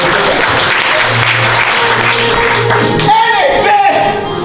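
A church congregation applauds loudly in sustained, dense clapping for a few seconds, with a voice heard over it.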